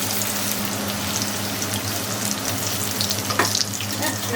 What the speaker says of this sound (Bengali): ভেজে নিন